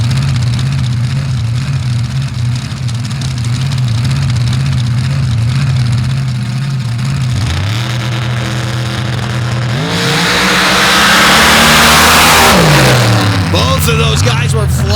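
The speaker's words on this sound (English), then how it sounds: "Lawyer's vehicle should be one of the fastest in the class as far as the nitrous injected vehicles, but Harrison is looking to be super quick." Nitrous-injected drag racing cars at an MRA Outlaw finals on a clay track, a loud rumbling idle that rises into harsh, roaring revs and a full-throttle launch, with engine pitch climbing and falling near the end.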